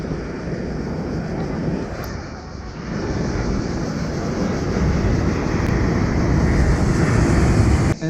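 A low-flying airplane drones overhead at a small rocky beach on Corfu, a broad engine roar that swells and stays loud over the sound of the surf and wind.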